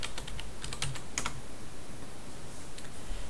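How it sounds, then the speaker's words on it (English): Typing on a computer keyboard at a Linux terminal inside a VirtualBox session, a short burst of light key clicks close up over steady background hiss, with no voices. "I'm going to type sudo Gparted"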